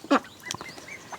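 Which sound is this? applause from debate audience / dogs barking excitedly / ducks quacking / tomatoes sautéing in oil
ducks quacking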